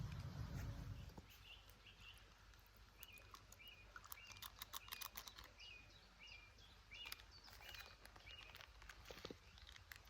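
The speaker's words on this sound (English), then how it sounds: "The bird song is lovely." Birds sing outdoors around sunset at a wild camp near Anchor Church Cave in South Derbyshire, repeated faint chirping phrases over quiet rustling and patter, following a brief low rumble at the start.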